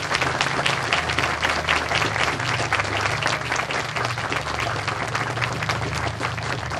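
A seated audience at a statue dedication gives sustained applause for tribal guests, dense steady clapping from many hands lasting several seconds without a break.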